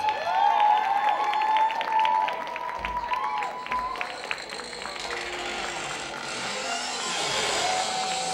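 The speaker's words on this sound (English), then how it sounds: "please scare up a big round of applause for Brenna and the Zombellies." Audience applause at the Rakkasah Spring Caravan belly dance festival for Brenna and the Zombellies' Thriller routine, steady clapping from a crowd with some cheering, fading somewhat midway then swelling again.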